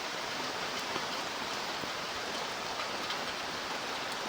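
Even, dense hiss of rain falling, constant and unbroken throughout, with no voices.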